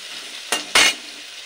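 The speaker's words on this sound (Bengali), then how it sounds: "এবার একে একে সমস্ত সবজিগুলো হালকা ভেজে নেব।" Carrots being stir-fried in hot oil in a wok for shrimp fried rice, heard as two short bursts of sizzling stirring, close and fairly loud against a quiet background.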